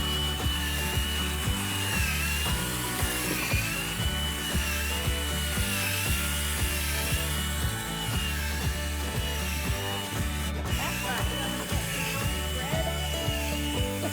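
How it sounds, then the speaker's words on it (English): A power drill runs steadily on its slow speed setting, churning through compost with a continuous whirring grind and irregular scraping and knocking as the mix is aerated. "Just check the drill is on slow speed number 1, always."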